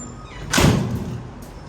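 A door in a building opening and shutting with a single loud thunk and brief rattle, followed by a fainter click, heard close against a steady low room hum.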